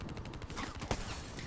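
Gunfire in the Call of Duty Black Ops 3 video game, a fairly quiet stream of rapid shots with one sharper crack near the middle, heard alone without talk.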